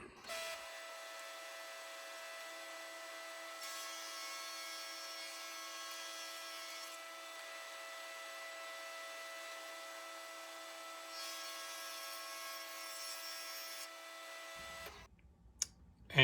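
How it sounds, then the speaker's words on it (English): A Felder stock feeder on a Hammer machine feeds splintery wood in a climb cut, giving a steady loud motor drone with high cutting noise that rises and falls over about fifteen seconds before stopping. "And that's the advantage of climb cutting."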